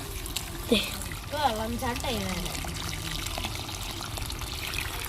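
Water pours and trickles down a deep channel cut into a mud model city, a steady soft flow beneath a person talking nearby.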